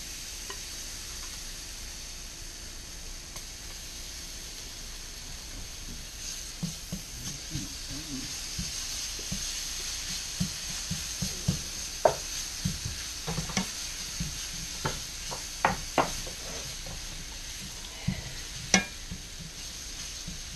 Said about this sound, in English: We're going to put down our garlic.